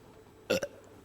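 A huge burp from someone being burped: one short, loud belch followed by a second smaller gulp, close and alone against a quiet room.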